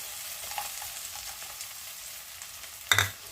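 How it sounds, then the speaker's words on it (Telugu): Tomato pieces fry in a pan with chili powder, a faint continuous sizzle with light crackles, ending in one sharp close scrape or clank of a utensil. "టమాటా ముక్కలన్నీ ఇలా ఫ్రై అయిపోయినాయి కదండి"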